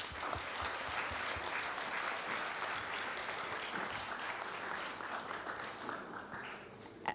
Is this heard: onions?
no